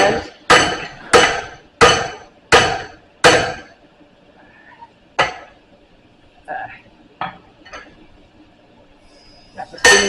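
Blacksmith hammering hot metal into a short, tight triangle bend: six sharp ringing hammer blows in quick even succession, then a pause and a few scattered lighter strikes and clinks, loud and close.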